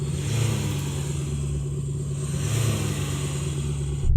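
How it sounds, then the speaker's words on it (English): A Mercedes Vito van engine revs while idling at traffic lights, a loud, steady low rumble with a sustained mid-range drone and slight swells in intensity, close by and with no talking. "let you hear what a true van sounds like when it's at the traffic lights revving away trying to frighten you"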